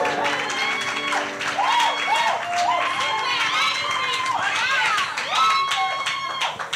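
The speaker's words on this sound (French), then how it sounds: "Clap for yourself." An audience at a conference breaks into steady applause, continuous clapping under loud voices and cheering.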